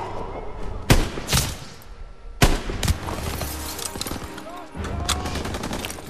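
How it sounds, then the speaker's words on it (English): Gunfire in the World War II shooter Call of Duty WWII, with sharp loud bursts near the start and middle over a busy battle backdrop, with a voice briefly audible. "Gunfire!"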